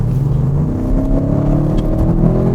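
An Audi RS6 Avant accelerating hard under sporty driving, its engine and exhaust giving a loud, sustained growl that climbs steadily in pitch, heard close and continuous without talk.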